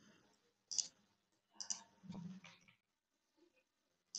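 Computer mouse clicks while selecting a file for upload: a few sharp, faint clicks spaced irregularly, with a soft low thump mid-clip and near silence afterward.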